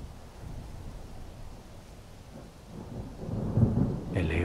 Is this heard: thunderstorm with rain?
yes